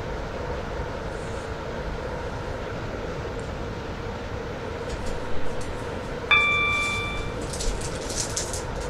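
A Stepford Connect train runs along the line in a video game, a steady rolling hum and rumble with a bright chime-like tone sounding near the end, no one speaking.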